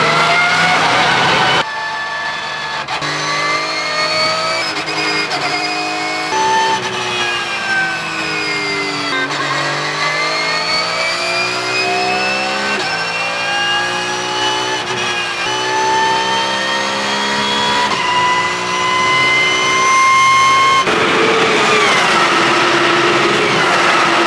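A race car accelerating away on a racing circuit after the green flag, its engine note climbing and shifting through gears in a loud, continuous roar that stays close throughout.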